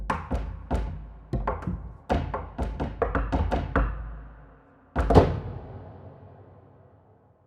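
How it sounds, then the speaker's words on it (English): Small, light knocks from the Memories Piano sample library, a quick series of soft taps and thunks fading out, followed by one louder, roomier knock with a longer tail. "And then a bunch of cool little knocks up here as well."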